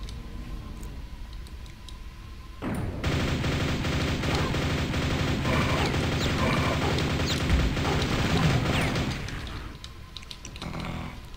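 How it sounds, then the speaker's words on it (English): A nail gun in a DOS first-person shooter fires in a sustained rapid mechanical stream for several seconds, loud and dense, starting abruptly and cutting off near the end against quieter game ambience. "Back to the nail gun."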